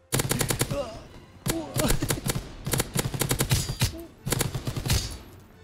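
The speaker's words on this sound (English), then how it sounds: "Look at, he's just shooting." Rapid automatic gunfire from Call of Duty WWII comes in several loud, dense bursts separated by short pauses, with echoing shots and faint game sounds between them.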